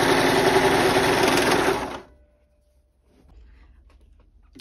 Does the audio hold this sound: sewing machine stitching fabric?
yes